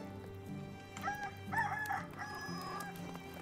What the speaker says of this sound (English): A good rooster.